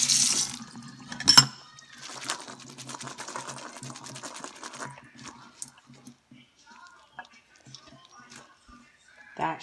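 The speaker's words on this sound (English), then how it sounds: "I was giving them kind of a quick rinse and a shake." Black beans are rinsed under a running tap and shaken, a brief rush of water followed by rattling and splashing that fades into sparse small clatters, with a voice heard faintly.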